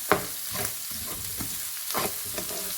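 Eggplant and potato masala sizzles in a hot pan, with a continuous frying hiss punctuated by several sharp scrapes and clatters of a spoon stirring at irregular intervals.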